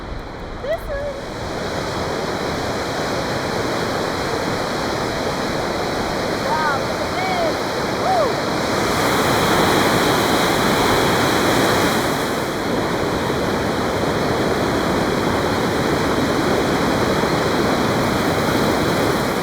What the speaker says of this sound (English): Everywhere you look you've got a river flowing, and some of them are really powerful like this one.